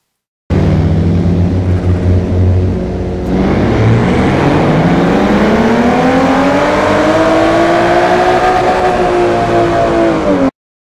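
A twin-turbo car in Forza Horizon 4 pulls from 2,000 RPM in second gear, its loud engine note rising steadily in pitch through a sustained acceleration with a brief dip early on, close and continuous with no talking.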